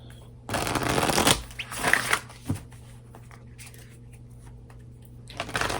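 Tarot cards shuffled for a pick-a-card reading, a close papery riffling in a long burst followed by a few shorter shuffles and soft card taps, with no talking.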